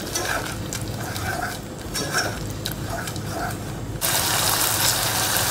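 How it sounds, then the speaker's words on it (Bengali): Cashew and raisin paste with spices being stirred and fried in a pan for a pointed gourd dorma, a steady scraping and soft sizzle throughout, growing louder near the end. "এবার এটা দিয়ে আমি ভালো করে কষায় নেব।"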